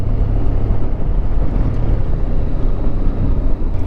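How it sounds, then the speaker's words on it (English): Strong wind blows at the pier in Bangor, Wales, a loud, constant low rumble buffeting the microphone without letup. "God, wind's coming in there."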